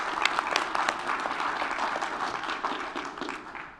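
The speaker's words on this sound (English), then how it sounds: "Let's give them an applause also." Audience applause at a board offsite meeting, a steady wash of many hands clapping at moderate level throughout, slightly distant and without talk.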